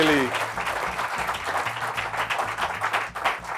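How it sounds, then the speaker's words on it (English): Graduation audience applauding three panelists, a continuous crowd clapping heard under background music with a low rhythmic pulse. "Please join me in a great round of applause for our three panelists"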